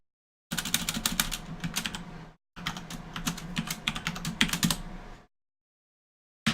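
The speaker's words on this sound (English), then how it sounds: "Just type in the password for this account." Fingers typing a password on a computer keyboard at a terminal, two close bursts of rapid clicking keystrokes separated by a short pause, then silence.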